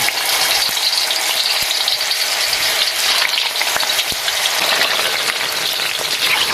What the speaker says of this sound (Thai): แม่จะทอดเต้าหู้ก่อนค่ะ